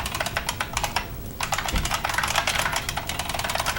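Rapid computer keyboard typing during game development work, a dense run of close, crisp key clicks with a brief lull near the middle, no voices.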